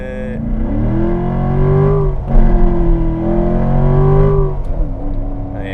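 A Corvette on warm tires accelerates hard from a roll with its engine roaring loudly from inside the cabin, pitch climbing through the gears with short dips at the shifts.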